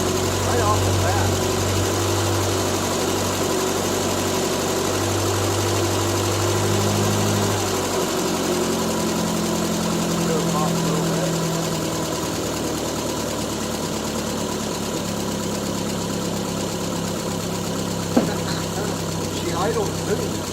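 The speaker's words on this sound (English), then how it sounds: "She idles too." An old Triumph Spitfire, started after sitting for 12 years, idles with a steady low rumble that holds for the whole stretch, while people talk nearby.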